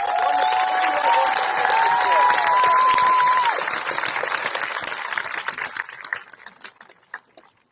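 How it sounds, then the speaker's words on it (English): Applause and some cheering from an audience at a high school graduation ceremony, loud and dense at first, then thinning into scattered claps before fading out. "let's give her a round of applause"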